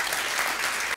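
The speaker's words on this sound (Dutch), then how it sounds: "Laten we dat eerst doen met een applaus voor je prachtige verhaal." A lecture audience applauding, dense continuous clapping that fills the room evenly for about a second before cutting off.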